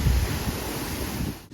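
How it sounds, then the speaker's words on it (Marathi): High-pressure water gushes out at a worksite, a steady loud rushing hiss that holds evenly for a moment before cutting off abruptly. "इथे एवढ्या जोरात प्रेशर पाणी येत आहे ना"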